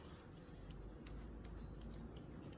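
Steady run of quick scissor snips cutting hair in a salon-style trim, crisp and close with an even rhythm, no talking.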